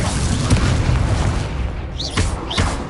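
Incendio fire spell blasts in Hogwarts Legacy, loud booming bursts with crackling rumble, several hits in quick succession, with sharp whooshing zips near the end.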